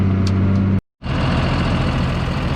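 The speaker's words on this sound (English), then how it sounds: "So here's the tractor, the sprayer." A farm tractor hitched to a crop sprayer idles nearby. Its engine gives a steady, loud mid-range drone that cuts out briefly near the start and then resumes, running unbroken to the end.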